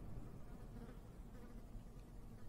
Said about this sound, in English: Flies buzz around a sink piled with unwashed dishes.